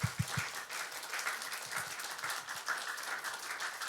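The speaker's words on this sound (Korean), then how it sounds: "이 시간 한번 박수 한번 쳐보실래요?" A church congregation applauds during a sermon on Revelation, a steady wash of many hands clapping together at moderate loudness, dense and continuous with no voices over it, a few sharper claps standing out near the start.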